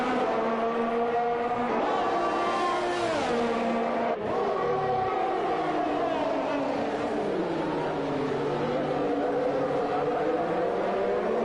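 Race cars in a Canadian Grand Prix racing video game, several engines roaring loudly and continuously, their pitch rising and falling through gear changes and passes, with a commentator talking over them.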